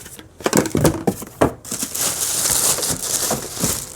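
A plastic bag crinkles and crunches in a burst of sharp rustles, then a steadier hiss of handling, as vacuum attachments for a DeWalt 9-gallon shop vacuum are unpacked close by.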